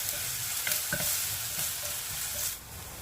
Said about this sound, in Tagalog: Lagay na po natin ang bawang at sibuyas